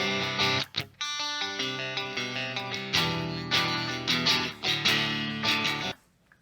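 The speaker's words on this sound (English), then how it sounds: "let's double that little guitar take" A loud, heavily distorted electric guitar plays a chugging metalcore riff of sustained chords with rhythmic accents, then stops abruptly.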